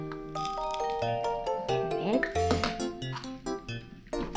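A small toy pan clinks and rings in a series of bright, uneven metallic taps while apples are cooked in a play kitchen, with a voice speaking over it.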